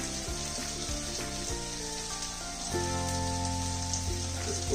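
Cardamom pods sizzling in about two tablespoons of hot oil for a chicken biryani, a steady close crackle and hiss with brief tonal clatters from the pan.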